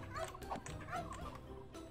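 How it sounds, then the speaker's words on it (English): Turkeys gobble in Minecraft, a quick series of bubbling, warbling calls repeating rapidly and overlapping at moderate loudness with no talking. "Look at all these turkeys."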